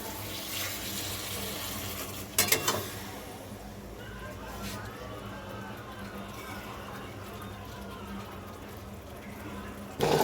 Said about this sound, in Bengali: কষিয়ে জল ঢেলে দেবো